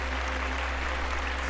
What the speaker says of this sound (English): we'll give him another round of applause.